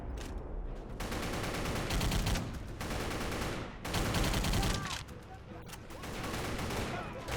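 Sustained automatic gunfire from a machine gun in the Battle for the Pacific video game on Xbox 360, set at Iwo Jima, comes in long loud dense bursts with brief gaps, mixed with other battle noise.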